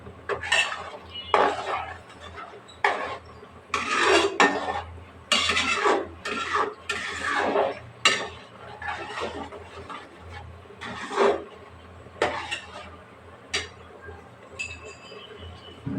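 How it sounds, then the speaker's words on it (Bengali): Metal utensil scraping and clinking against a pan while tomato sauce with salt is stirred, in uneven bursts of close, moderately loud scrapes with a voice talking in between. "লবণ দিয়ে ভালোভাবে মিশিয়ে নেব।"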